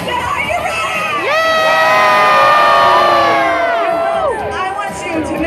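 A large crowd aboard the Disney Wonder cruise ship cheers and whoops loudly during a countdown, the roar swelling to a sustained peak before easing off, with shouting voices mixed throughout.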